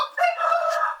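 A rooster crows loud and close among clucking chickens, one drawn-out harsh crow lasting about a second with no talk over it.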